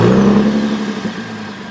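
A Lexus IS250 fitted with a Vibrant resonator revs once loudly up close, then the engine note falls back and settles toward a quieter idle.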